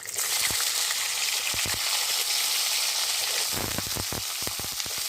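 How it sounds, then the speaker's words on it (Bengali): Capsicum fries in hot oil with crushed cardamom, cloves and cinnamon, making a dense, even sizzle. Sharp ticks and pops of spattering oil come in quick clusters toward the end, and no one speaks. "ক্যাপসিকামটা হালকা ফ্রাই করে নিয়েছি"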